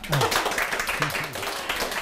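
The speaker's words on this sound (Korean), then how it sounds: "정말 우리 박수 한번 드릴까요?" An audience at a Korean lecture show claps in a brief burst of light, rapid applause, with voices talking over it throughout.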